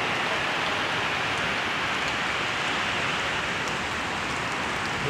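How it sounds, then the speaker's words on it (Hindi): Heavy rain pours steadily over a flooded street after twenty minutes of downpour, a dense, even hiss of drops close by that fills the whole stretch without a break. "ये देखिए बहुत भारी भारी बारिश हो रही है"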